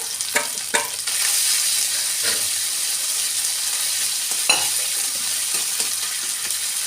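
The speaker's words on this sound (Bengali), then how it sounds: "আদা কাঁচা লঙ্কা একটু ভেজে নিয়ে" Ginger and green chili paste frying in a pan for a vegetarian curry, a continuous close sizzle broken by occasional scraping stirs and spatula taps, with no voices.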